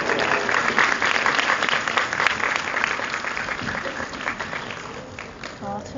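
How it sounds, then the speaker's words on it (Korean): Audience applause at a Korean one-day class event, a dense steady clapping from a room full of people that starts loud and tapers slightly, with scattered voices mixed in. "박수 부탁드립니다."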